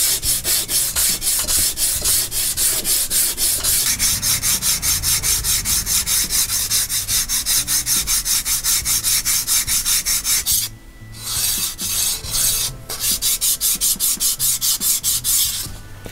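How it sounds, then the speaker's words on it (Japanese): 180-grit sandpaper rubbed back and forth over a plastic base for a tank diorama, producing a steady, rapid, close rasping rhythm that pauses briefly then resumes, with no talking. "180番でずっと削りましたら、このくらい、まず綺麗になってくれました。"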